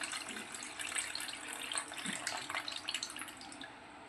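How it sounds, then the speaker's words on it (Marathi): Water gets poured over raw crab pieces and stirred by hand while washing them, a faint close splashing and trickling with light sloshing and drips, no talking. "ते अजून पाणी टाकून मी असं छान प्रकारे याला मिक्स करून घेते"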